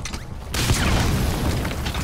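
A sniper rifle fires in Metal Gear Solid V: The Phantom Pain: a sudden loud boom about half a second in, followed by a sustained, noisy rumbling tail that fills the rest of the moment.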